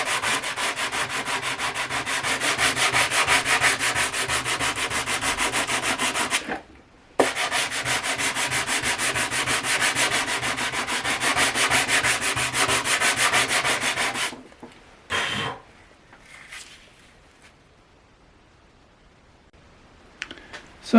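Sandpaper pulled steadily over the play-worn, slightly corrugated neck of a Hagström acoustic guitar, a close continuous rasping scrub that breaks off briefly once, then stops, leaving a few light handling sounds.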